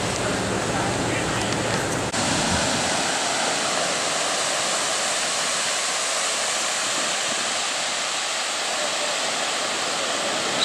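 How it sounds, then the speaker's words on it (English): Water rushes through a dam gate into the Coosawattee River, a loud, steady, broadband roar like a waterfall that carries on without a break. "they're releasing water in one of the gates"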